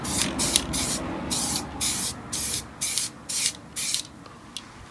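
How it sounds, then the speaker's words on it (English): Spray paint hisses onto wheels in seven short, evenly spaced bursts, each about half a second long, close and fairly loud, with no talking in between. "Going to get these sprayed."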